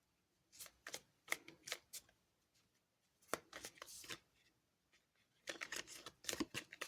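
Crystal oracle cards being shuffled by hand in three quick, soft riffling bursts separated by brief pauses, close and quiet.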